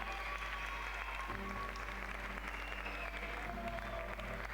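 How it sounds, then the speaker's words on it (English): A crowd applauds and cheers for a climber at the La Sportiva Legends Only 2017 climbing competition, a steady, faint wash of clapping from a distance that continues throughout. "Crowd giving her some support."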